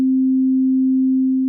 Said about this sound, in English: we have an oscillator with a sine waveform, that is our bass sound